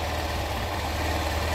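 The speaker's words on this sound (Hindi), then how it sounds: "भाई फाइनली स्टार्ट हो चुका है मेरा बाइक।" A Hero Glamour Xtec motorcycle engine idles just after starting, with no battery fitted, giving a steady low, close rumble that keeps going without a break.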